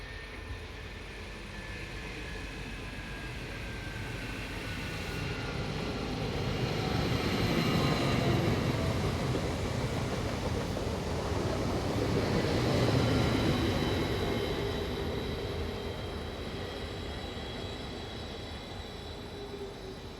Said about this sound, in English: 428136 arrived with a train from Frankfurt to Neuwied